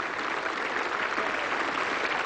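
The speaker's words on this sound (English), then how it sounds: "Big round of applause, and rightly so." Crowd applause at a 1988 England versus West Indies Test cricket match, a dense, steady patter of clapping throughout with no voices over it.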